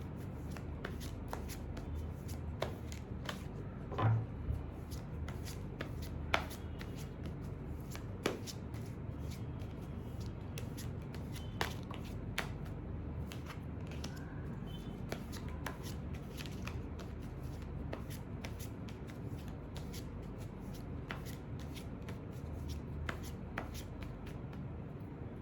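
Rider-Waite tarot deck being shuffled by hand, a steady run of soft riffling card flicks and slaps with occasional sharper taps, close and quiet throughout.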